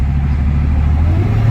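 A Dodge Charger SRT Hellcat with a blown engine rumbles loudly as the gas pedal is pressed, a heavy, steady low drone that stays rough and fails to climb much in pitch.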